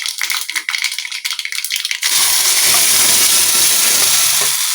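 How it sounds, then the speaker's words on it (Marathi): Ground coconut chutney hits hot tempering in a pan: rattling, crackling spatters come first, then an abrupt loud, steady sizzle that fills the rest, close up with no talking. "आता ही मी सगळी चटणी जी बारीक केली होती ती मी आता फोडणीत टाकणार आहे"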